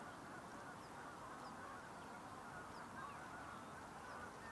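Geese honking as they fly past outdoors in Lancashire, with many birds about; faint, scattered calls sit over a steady broadband wind-like hiss throughout, with no talk.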